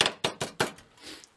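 Sharp metallic taps from a hammer working around the bent-up edges of a cut-out copper trout, four quick strikes in a row followed by a softer trailing sound.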